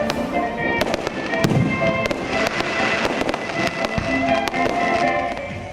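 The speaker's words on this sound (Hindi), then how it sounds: "और आखिर में शानदार आतिशबाजी।" Fireworks display bursting in rapid succession, sharp cracks and pops crackling over a dense rumbling wash, loud and continuous with no voices.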